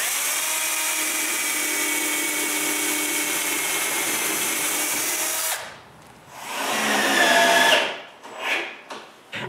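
A power drill boring pilot holes for a dust-filtering blower's fixing screws in a woodworking workshop, a loud steady whine for several seconds that stops, followed by shorter bursts of spinning up and winding down.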